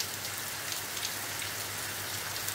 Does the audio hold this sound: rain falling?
yes